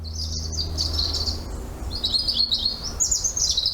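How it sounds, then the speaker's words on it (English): Birds chirp and tweet back and forth nearby, bright high calls trading over a low outdoor rumble. "Don't know if you can hear those birds are having a conversation"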